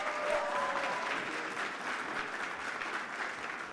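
Sustained audience applause fills a hall for a Nutshell team, dense and steady clapping from a large crowd throughout, fairly loud and close, slowly easing toward the end.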